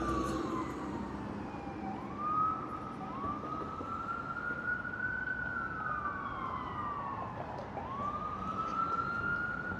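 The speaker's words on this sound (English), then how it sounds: "Oh, ambulance coming." Ambulance siren sweeping through a wailing rise-and-fall pattern on a Toronto downtown street, sustained over steady traffic rumble and city noise, moderately distant.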